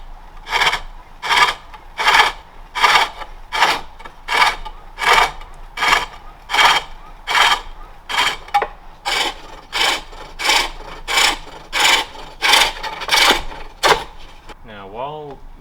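Rhythmic rasping cuts on a wooden bowl turned on a foot-powered pole lathe, about sixteen even strokes repeating steadily at close range, each a bright scraping burst with a short pause between.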